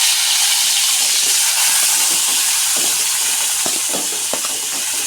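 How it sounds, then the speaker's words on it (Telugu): Green chillies fry in hot oil in a pan, giving a loud continuous sizzle and hiss with small crackles and a few stirring scrapes. "ముందుగా అయితే పచ్చిమిర్చి వేపేసుకుందామండి."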